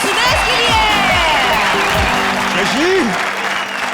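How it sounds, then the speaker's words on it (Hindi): Studio audience applause on a Hindi television comedy show, dense clapping that holds steady throughout while music and voices play over it. "तालियां कृष्णा और सुदेश के लिए।"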